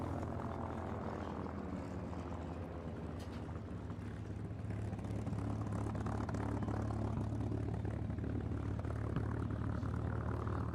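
Air show aircraft flying coordinated Cuban eight maneuvers at a VE Day air show: a steady propeller engine drone, moderately distant, swelling gradually louder over the span.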